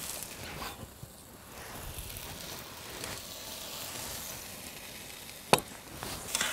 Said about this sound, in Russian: Так, соус перемешиваем, чтобы чеснок у нас обварился